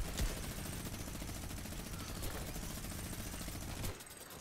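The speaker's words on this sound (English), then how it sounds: "Bad Josh, I'm not trying to shoot you." Video game gunfire in a squad battle match: dense, continuous rapid-fire shooting that holds at a steady level for several seconds, then cuts off near the end, with no talking.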